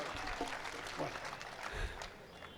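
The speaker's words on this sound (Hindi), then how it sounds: "एक बार जोरदार तालियों से मुझे आदेशित करें" Audience applause at a Hindi poetry recital (kavi sammelan), a steady wash of clapping that holds evenly across the whole stretch, with voices murmuring underneath.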